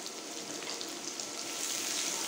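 Beans with bacon frying in a pan over high heat, a steady close crackling sizzle with no talk.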